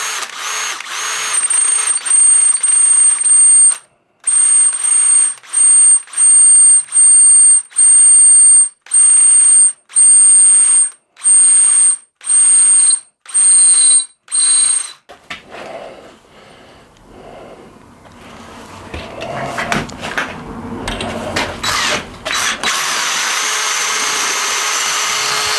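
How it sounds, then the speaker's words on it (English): A Banggood step drill bit bores into stainless steel in a series of loud, high-pitched whining bursts, roughly a dozen short pulses separated by brief pauses, followed by grinding, scraping mechanical noise and a sustained harsh whir. "Right, so it does drill stainless."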